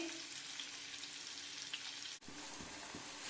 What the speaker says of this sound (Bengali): এইবার সর্ষের তেল আর মাখনের মধ্যে আমি পেঁয়াজটাকে দিয়ে দিচ্ছি